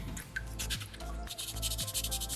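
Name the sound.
sanding soapstone fox carving with sandpaper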